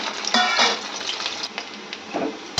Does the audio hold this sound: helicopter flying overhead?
no